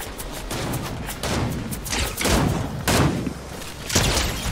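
Gunfire in Fortnite, a series of muffled bursts and booms swelling and fading over several seconds, fairly dense and moderately loud, with no talk over it.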